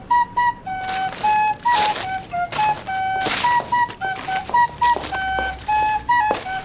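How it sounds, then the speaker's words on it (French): A whistle blown in a quick series of short, bright tweets and trills, repeating in an uneven rhythm, loud and close. "il y entre en sifflant dans son sifflet."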